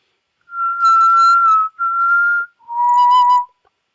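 Three sustained whistled tones from a person, close and loud: two steady notes at one pitch, then a lower held note, with brief breaks between, no talking.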